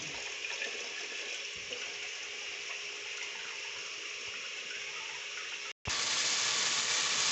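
Tap water runs into an electric kettle in a home kitchen, a steady hissing gush that stops briefly near the end and then resumes.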